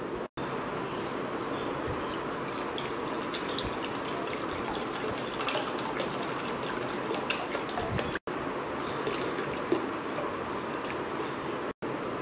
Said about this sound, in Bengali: প্রথমে আমরা একটা মিক্সিং বলে 3 গ্লাস ঠান্ডা পানি দিয়ে দেব